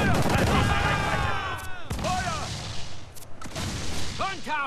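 Repeated heavy booms of ship cannon fire in Assassin's Creed Freedom Cry, with sharp blasts cutting through busy naval battle noise and shouted German voices throughout.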